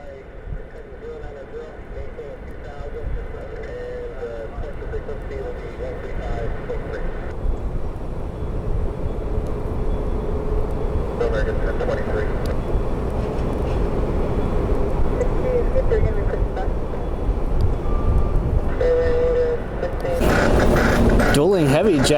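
A United Boeing 777 jet airliner, inbound from Chicago, passes near an airport with a steady broad roar that builds and holds across the whole stretch. A voice talks over it.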